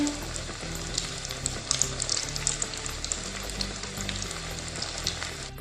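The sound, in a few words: deep frying smiley potato snacks in oil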